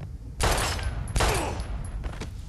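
Two loud, close gunshot blasts in the video game Life Is Strange, about a second apart, each with a ringing decay, then a fainter third report.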